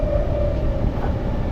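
Taiwan high-speed bullet train pulling into a station, a loud steady rumble and rushing hum with a faint whine, heard up close and continuous.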